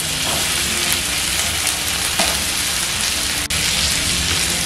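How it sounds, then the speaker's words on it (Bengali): Cut potato pieces sizzle loudly in hot oil in a wok, a dense, steady frying hiss with faint scraping as they are stirred, close up and without speech. "এখন আমি এর মধ্যে দিয়ে দিচ্ছি কেটে রাখা আলুর টুকরোগুলো।"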